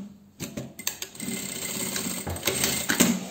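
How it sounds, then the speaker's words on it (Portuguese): A sewing machine stitches bra fabric in short close bursts of rapid mechanical whirring and clatter, starting and stopping with no one speaking. "E a gente já vai dar uma costura aqui, ó."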